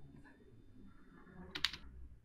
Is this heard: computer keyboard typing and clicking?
yes